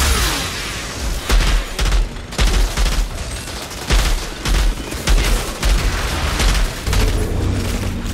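Enemy gunfire in a sci-fi shooter game, loud rapid bursts of automatic fire with heavy booming shots, repeating in uneven volleys for several seconds with no talk over it.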